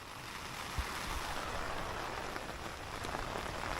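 Heavy outdoor rain makes a constant, close wash of drops spattering on surfaces, with one or two louder drips and no voices.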